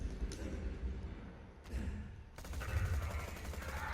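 Lead Storm gun bursts in Borderlands 2 against a badass enemy, fairly quiet sharp cracks with a heavy crackling barrage in the last stretch over low rumbling.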